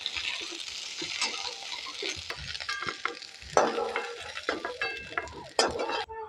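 Pointed gourd frying in oil in a pan for a potato and pointed gourd dish, stirred with a spatula: close clatters and scrapes over a soft sizzle, no talking.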